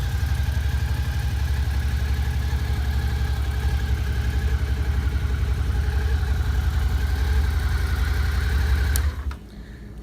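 A 2013 Suzuki Gladius 650 motorcycle idles steadily on its stock exhaust, a loud, even low-pitched burble with a fast regular pulse, cutting out abruptly near the end.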